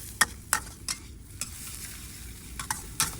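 Chopped onions being stir-fried, a soft steady sizzle under spaced scrapes and taps of a spatula against the pan, close and fairly quiet.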